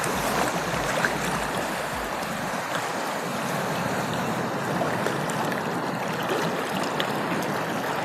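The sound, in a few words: water current flowing while wading at Kappil Beach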